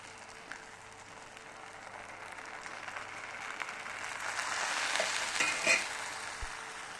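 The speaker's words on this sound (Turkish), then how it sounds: "kaynattığım şerbetini baklavanın üzerine yavaş yavaş ekliyorum" Boiled syrup poured slowly over hot baklava, a soft hissing sizzle that swells gradually and fades, close and fairly quiet with no talk.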